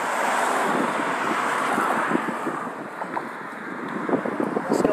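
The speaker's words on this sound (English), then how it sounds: "Here comes some cars." Cars pass over a large bridge outdoors, a steady broad traffic rumble under strong breezy wind noise, with occasional louder swells as vehicles go by.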